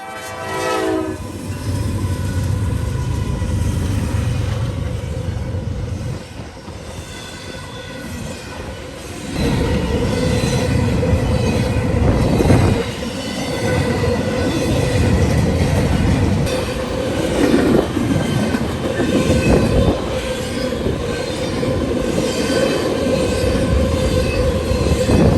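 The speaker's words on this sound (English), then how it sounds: "a westbound intermodal comes in flying" A westbound intermodal freight train races past a crossing in northwest Ohio, its horn blaring and wheels and cars roaring loudly and continuously, with clicking rail joints and squeals as it passes close by.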